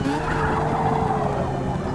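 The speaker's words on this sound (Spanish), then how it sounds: "Uy, perdió el control. Se fue contra el muro." In a racing video game, a car loses control and slides toward a wall: a loud, continuous engine roar with a rough tire skid spread across two seconds, and no distinct impact standing out.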